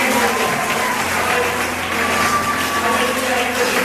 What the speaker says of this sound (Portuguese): Glorifique ele com as palmas do meu serafim